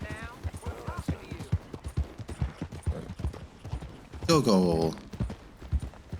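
Horse hooves clip-clop in a steady rhythm through Red Dead Redemption 2, mixed with in-game voices talking over them and a louder harsh burst near the end.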